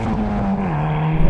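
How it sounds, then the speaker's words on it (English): Hyundai i30 N hot hatch pulling hard under acceleration, a steady loud engine drone with a rising harmonic tone, close and continuous, with a brief bump near the end. "let's see what this Hyundai i30 is like to drive."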